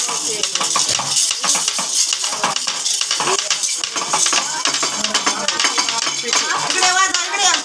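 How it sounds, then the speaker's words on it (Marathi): Home kitchen cooking with continuous frying sizzle and spoon-stirring scrapes against a pan, with dish and utensil clatter close by and people talking over it. "हे बघा इकडं स्वयंपाक चाललेला आहे."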